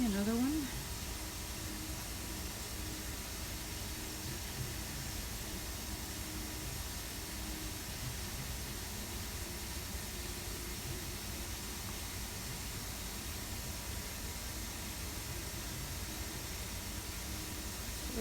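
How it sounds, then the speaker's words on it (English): Steady broadband whoosh and low rumble of laundry machines running in a basement, a constant hiss-like background with no distinct cycles, moderately quiet and continuous. "Sorry about the noise in the background. I'm doing my laundry."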